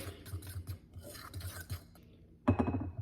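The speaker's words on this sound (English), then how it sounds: "Just gonna mix this with a fork." A fork scrapes and rasps around a bowl, stirring flour, salt and baking powder for brownies, quick repeated strokes close by before a sharper clatter of utensil against the bowl near the end.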